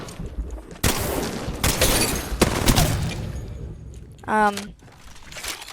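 Rapid bursts of automatic gunfire from a PK or Mastiff machine gun in a first-person shooter, loud sustained volleys with a brief sharp interruption and a rising mechanical chirp near the end.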